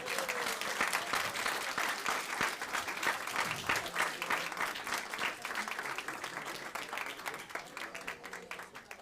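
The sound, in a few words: audience applause for a professor at a forum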